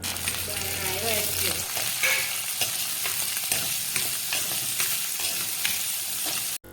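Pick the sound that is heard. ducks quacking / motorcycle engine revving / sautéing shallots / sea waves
sautéing shallots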